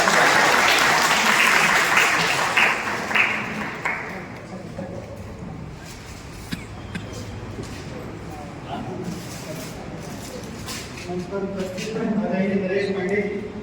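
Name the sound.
applause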